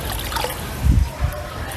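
Water trickles a little at a time onto the soil of potted vegetable and fruit plants: a close, soft, steady dribble with a couple of brief louder splashes.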